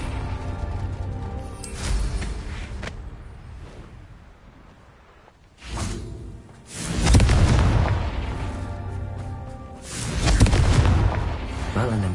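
Fiery spell blasts from a Harry Potter video game, several booming explosions with rumbling tails rising out of a steady background, the loudest bursts arriving in the second half.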